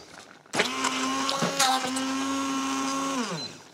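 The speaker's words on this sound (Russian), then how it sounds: "Возьму блендер и прямо в сотейнике превращу в пюре." An immersion blender purees cooked plums right in a saucepan, its motor kicking in with a loud, steady whir that wavers slightly as it churns, then winds down at the end.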